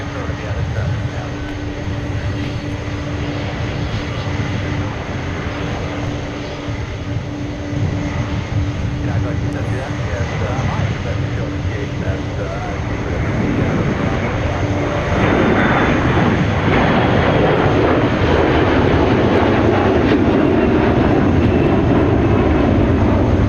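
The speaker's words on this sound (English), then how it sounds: "there goes that Eastern Airlines 737 you were speaking of earlier" An Eastern Airlines Boeing 737 jet passes near Minneapolis-St. Paul airport, its broad engine roar building louder partway through and staying strong, with people talking over it.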